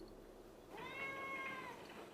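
A house cat lets out a single drawn-out, tonal meow, fairly close but soft, following a moment of quiet room tone.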